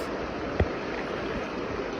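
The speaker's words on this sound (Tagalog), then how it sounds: "yung lagaslas ng tubig na yun, napakaganda" Creek water babbles over rocks along a stony streambed, a steady, soft, close rushing wash with one brief knock partway through and no voices.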